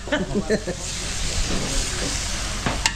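Beef sizzling with onions in a pan, a steady close hiss of frying with a few stirring clinks, under someone speaking.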